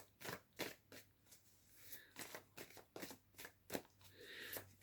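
An oracle card is drawn from a deck, with quiet papery flicks and crisp slides of cards coming in short, uneven bursts. The sounds are close and soft, with no voice.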